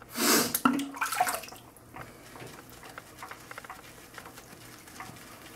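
A Simpson Chubby shaving brush is loaded with soap, opening with a wet swishing burst, then settling into quieter, irregular dabbing and swirling strokes.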